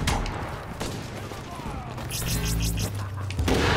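Heavy APC-mounted gun firing in The Division on Xbox, a rapid stream of booming shots rolling in over a rumbling game soundscape, growing denser toward the end, with a voice talking underneath.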